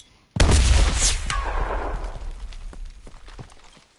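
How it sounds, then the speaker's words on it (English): A grenade in the Enlisted war game detonates with a sudden loud blast that rolls off into a decaying rumble and scattered debris crackle over a few seconds. "let's say I throw a grenade on the ground, and I took damage"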